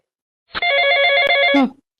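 A telephone bell rings in one continuous burst of about a second, loud and close, with no voices over it.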